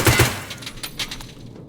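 Handgun point fire at close range in Escape from Tarkov, with two sharp, loud shots close together at the start followed by softer, scattered gunfire and echoes.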